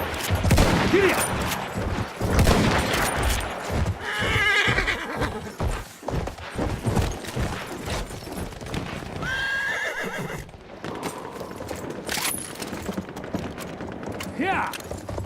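Horse hooves clip-clop at a gallop with loud neighs and whinnies in the game Battlefield 1, set against bursts of gunfire and battle noise, with brief voices shouting now and then.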